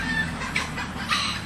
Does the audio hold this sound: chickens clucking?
yes